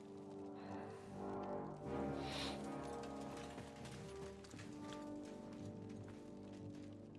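Horses gallop in a medieval-style video game, a continuous muffled rumble of hoofbeats carrying on steadily under layered music and ambience, moderately loud throughout.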